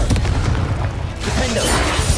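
Confringo fire spell blasts in Hogwarts Legacy, a burst of loud booming impacts and crackling debris followed by a second rushing, fiery explosion.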